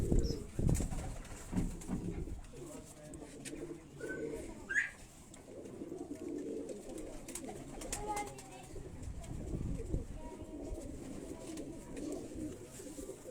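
Teddy pigeons coo softly at close range in a loft, low throaty calls rising and falling, with someone talking over them at intervals.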